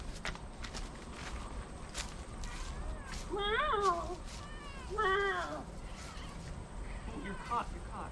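A cat meows in two or three drawn-out, rising calls at moderate distance, over light background noise and scattered tapping.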